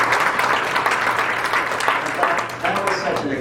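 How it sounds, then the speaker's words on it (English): Students in a classroom give a round of applause, a steady spell of clapping from a small group that sounds fairly close, with a voice talking over part of it. "Let's give Steve a round of applause"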